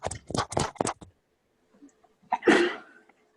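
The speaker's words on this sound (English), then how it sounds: "I think that was a sneeze." A single sharp sneeze bursts out near the mic after a stretch of quiet, preceded by a few short breathy or speech-like bursts in a classroom setting.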